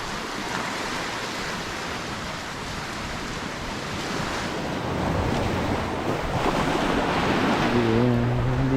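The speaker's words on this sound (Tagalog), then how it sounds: "Hindi siya ganong kalakas ang alon, pero high tide." Ocean waves at high tide along a beach at Spring Bay wash in as a steady broadband roar with wind buffeting the microphone, swelling louder toward the end.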